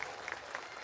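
An audience claps at a Bhagavat katha religious discourse, a brief burst of dense, fairly faint applause from a crowd.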